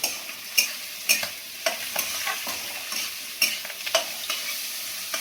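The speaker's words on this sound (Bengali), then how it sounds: "পেঁয়াজগুলো একটু ভালো করে ভেজে নিই" Onions fry in a pan for an egg kosha curry, a steady hissing sizzle with sharp spatula scrapes and stirs landing roughly every second, close and without voices.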